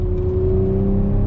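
Audi RS4 engine pulling hard on a race track, a steady loud drone with a strong low harmonic that rises slightly in pitch as the car accelerates, continuous and close with no talking.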